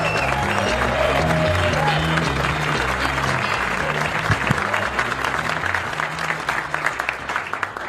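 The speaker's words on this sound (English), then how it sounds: "Let's give him a big rousing round of applause for Orlando Baxter" Comedy club crowd at Gotham Comedy Live gives a big rousing round of applause for comedian Orlando Baxter: dense, loud clapping with some cheering that thins out and grows more scattered toward the end.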